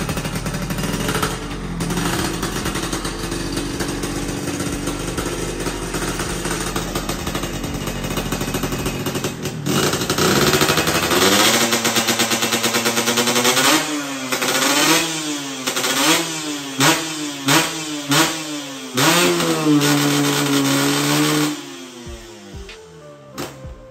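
A Yamaha 125Z two-stroke motorcycle built up as a full-paper race bike, its engine idling and then revving hard in repeated sharp bursts, loud and close, with no one talking.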